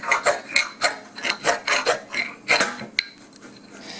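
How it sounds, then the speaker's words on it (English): Shavings are scraped from a piece of Texas fatwood in a rapid series of close, raspy strokes, about a dozen rough scrapes in uneven rhythm that thin out toward the end. "This is John Capps, and this is Texas Fatwood shavings."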